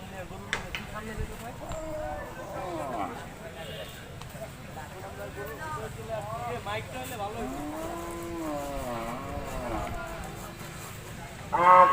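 Cattle mooing in drawn-out calls amid a crowded, noisy Eid al-Adha livestock market in Bangladesh, with people talking throughout.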